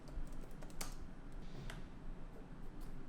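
Rapid typing on a computer keyboard, a quick run of light, close clicking keystrokes with a few sharper taps, heard alone over faint room noise.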